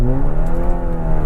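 Stage 2 Kia Seltos with a full-system valvetronic exhaust pulling hard in sport mode with paddle shifters, a loud, rising engine and exhaust drone climbing steadily in pitch, heard close with no talk.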